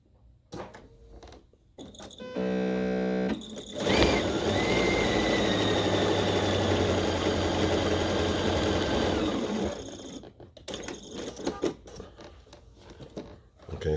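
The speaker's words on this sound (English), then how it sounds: "we're going to run a 1/4 inch seam from that flat edge corner" A sewing machine stitches a quarter-inch seam on quilt strips, a steady mechanical whirr running for several seconds, preceded and followed by fabric handling and small clicks nearby.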